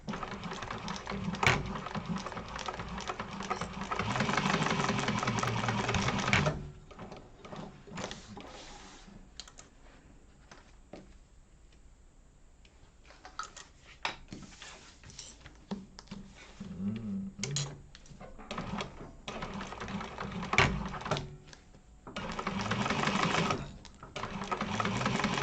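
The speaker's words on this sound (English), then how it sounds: "we're going to go ahead and we're going to baste those in place" A sewing machine bastes a Zip-N-Grip bag in bursts of fast stitching, starting and stopping over roughly twenty-five seconds with quieter gaps, fabric handling and small clicks in between.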